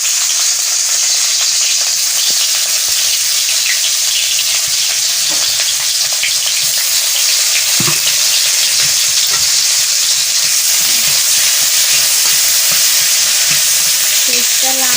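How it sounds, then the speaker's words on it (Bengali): Onion dropped into hot oil in a pan sizzles loudly and steadily, a dense, continuous hiss close by with occasional soft clicks and scrapes. "এবার পেঁয়াজটা ছেড়ে দিচ্ছি।"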